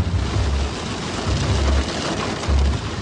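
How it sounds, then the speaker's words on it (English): Heavy rain from a hurricane that reached the Jersey Shore pours down in a loud, constant wash, with low rumbles swelling and fading underneath. "We have a heavy downpour here again today."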